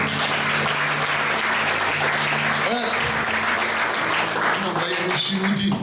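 A church congregation claps steadily and loudly for several seconds, with voices and shouts mixed into the dense applause throughout.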